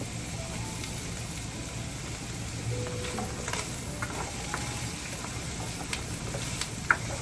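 Fried rice sizzling and being stirred in hot canola oil, a steady close crackle with occasional scraping and small pops, no talking over it.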